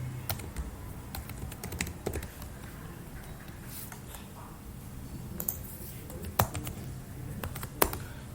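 Steady typing of code on a computer keyboard, with close, crisp key clicks in an uneven patter and a few louder keystrokes standing out, and no voices.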